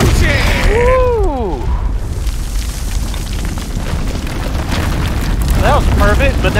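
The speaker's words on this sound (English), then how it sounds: "explosion!" A booby-trap explosion in the video game House of Ashes: a loud, sustained rumbling blast fills the whole stretch, with excited voices and shouts rising over it.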